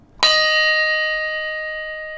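A single bell strikes sharply and then hangs in a long, bright ringing tone that slowly fades, heard alone without voices.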